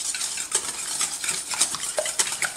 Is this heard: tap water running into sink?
no